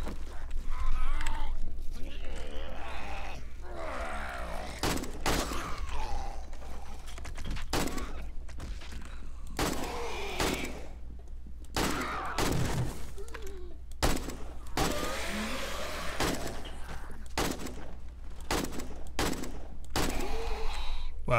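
Sharp gunshots crack out in a 7 Days to Die match, scattered irregularly over a steady low hum, with a voice talking in between the shots.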